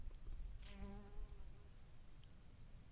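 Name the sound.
small black wild bees buzzing around blooms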